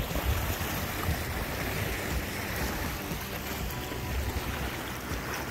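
Open water and wind wash steadily around a fishing boat out tautog fishing off Rhode Island, a constant broadband rush with no talk.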